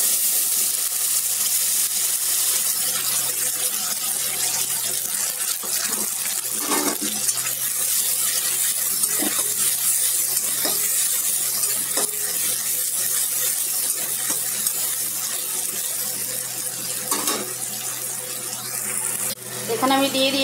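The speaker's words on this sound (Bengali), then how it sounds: "সেই মশলা পেস্টটা এবার আমি দিয়ে দেবো" Ground spice paste sizzling in a hot pan while a loitha fish curry fries, a steady hissing sizzle at moderate loudness with occasional small pops and clinks over about twenty seconds.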